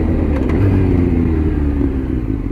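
Honda FireBlade motorcycle pulling hard at full throttle in fifth gear from low revs, a steady loud engine drone running throughout with a faint clatter layered on top.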